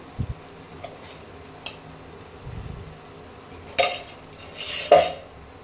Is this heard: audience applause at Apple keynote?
no